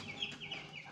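Nine-day-old chicks on a poultry farm make faint, repeated high cheeping calls over a low steady background hum.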